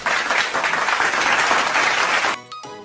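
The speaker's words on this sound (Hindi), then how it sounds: "बच्चों बजाओ ताली" Children clap their hands in a steady burst of loud, dense applause that lasts a couple of seconds, then cuts off abruptly and leaves a brief quiet tail.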